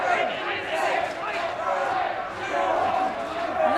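Supporters at an under-20 men's lacrosse championship match shout and chant from the stands, a continuous loud crowd roar with voices rising and falling, with commentary talk over it.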